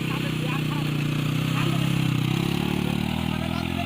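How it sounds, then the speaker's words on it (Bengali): A motorcycle rides across desert-like sand on a beach at Cox's Bazar, its engine droning steadily and loud throughout with a slight rise midway, and a voice talks over the noise. "শুধু বাইক উঠে যায় বালিতে"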